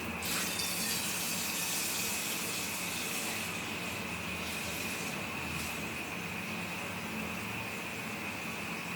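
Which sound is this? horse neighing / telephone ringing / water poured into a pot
water poured into a pot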